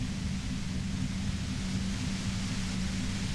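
Constant white noise in the Disco Elysium video game, an even, unbroken hiss with a low hum beneath, steady from start to finish.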